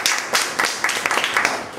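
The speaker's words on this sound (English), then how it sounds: "Small applause voor Erik Metz." A small audience gives a short burst of applause, with a handful of sharp, separate claps repeating in an uneven rhythm at moderate loudness.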